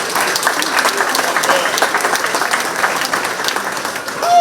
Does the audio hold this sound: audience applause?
yes